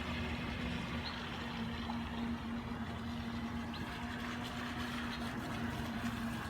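A CAMRAD 800 fishing bait boat runs its Falcon 5010 motor at full throttle on water, giving a steady, unbroken electric whine over a wash of wind and water noise, heard from some distance.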